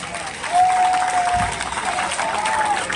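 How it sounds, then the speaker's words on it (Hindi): Audience applause at a Lok Sabha election campaign event in Khatauli, Muzaffarnagar, a crowd clapping steadily at moderate distance with a faint whistle-like tone riding over the clapping. "मेरी तरफ से आप एक बार इनके लिए तालियां बजा दें।"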